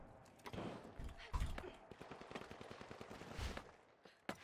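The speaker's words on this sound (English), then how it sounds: "Shooting at the ground." Gunfire in the shooter The Finals sprays at the ground as quick, rapid bursts of sharp shots with a few heavier thumps, mixed with low voices talking over it.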